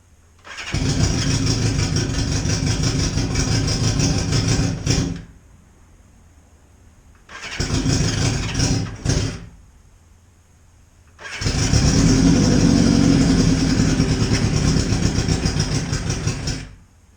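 A cold hot rod lawn mower engine after carburetor cleaning, cranking and catching three times: loud running bursts, a brief sputtering attempt, then a longer steady idle, with quiet gaps between.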